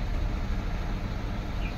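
A car engine idles steadily just after starting, a close, even rumble with no breaks.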